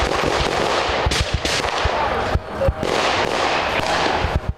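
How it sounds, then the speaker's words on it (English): Rapid bursts of gunfire crackle in quick clusters on San Antonio's northeast side at night, sharp reports echoing over a constant noisy background, with short lulls between volleys. "Listen to all that gunfire."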